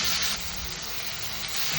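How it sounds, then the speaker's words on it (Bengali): Tomatoes frying in buffalo ghee in a pan, giving a steady close hiss and sizzle that runs evenly throughout with no voices. "তার আগে টমেটোটাও ভেজে নিচ্ছি।"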